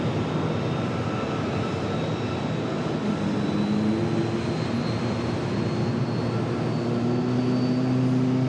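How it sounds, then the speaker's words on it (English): Boeing 737 MAX 8 of American Airlines starting its engines on the ramp at Charlotte airport, a steady, continuous whine and low rumble held throughout, with faint rising tones near the end. "MAX 8 continuing its startup here just below us."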